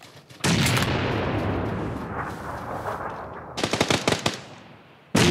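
Video game gunfire in a firefight near a walled compound: a long burst of rapid automatic fire and booming blasts, then a cluster of sharp, close shots near the end.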